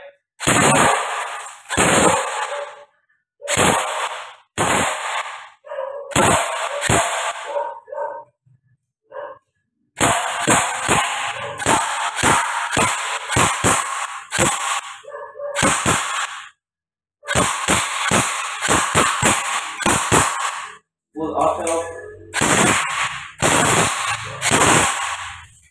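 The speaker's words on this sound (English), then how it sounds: "I'm gonna do. A full auto on that styro or the styrofoam." Bursts of rapid full-auto gunfire from a Glock 19 pistol shooting into styrofoam crack out in repeated strings, loud and close, separated by short silences, with some shots slightly more spaced.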